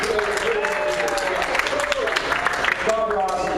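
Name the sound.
audience round of applause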